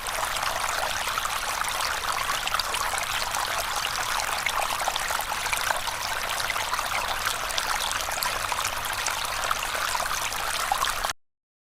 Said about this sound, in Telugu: మనం వాటర్ ని అయితే మన టబ్ లోకి అయితే యాడ్ చేసేసుకుందాం ఫస్ట్